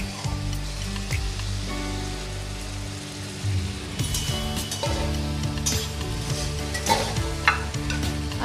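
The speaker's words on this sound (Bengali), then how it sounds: "এবার আমি আলু পটল দিয়ে আবারও ভালো করে মশলাটা কষে নেব।" Spice paste frying with potato and pointed gourd in a pan for a fish-head ghonto, a steady loud sizzle with scraping stirs and clinks throughout, no talking.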